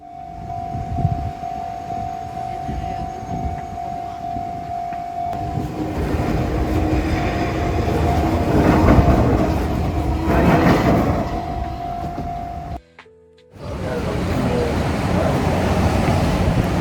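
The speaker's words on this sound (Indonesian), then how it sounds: "mau ambil footage kereta lewat" A train rumbles past close by in Japan, a loud steady roar of rolling wheels with a sustained tone, briefly cut off before the noise returns.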